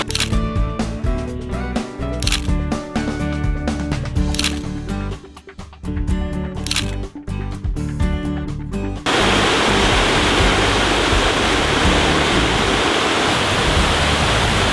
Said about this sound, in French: Derrière moi, une magnifique cascade, la cascade des Combes, près de Saint-Claude dans le Jura